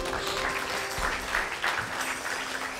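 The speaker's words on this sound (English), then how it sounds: "Give the Lord a hand clap of praise." A church congregation claps in praise, a dense continuous round of applause from a crowd, moderately loud with faint voices mixed in.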